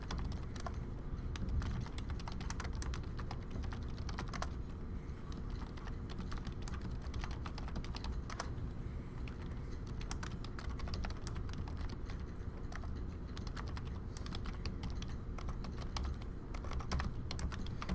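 Steady typing on a computer keyboard while formatting a business letter, a continuous run of close, quick key clicks with no pauses and no voices.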